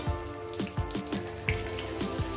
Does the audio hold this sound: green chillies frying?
yes